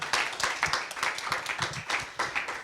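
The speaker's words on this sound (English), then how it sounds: "can we please have a big round of applause for our authors?" Small audience at the American Library in Paris clapping for the authors at a book event, a lively, uneven patter of individual hand claps close by.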